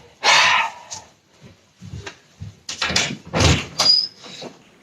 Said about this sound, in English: They walk out the door.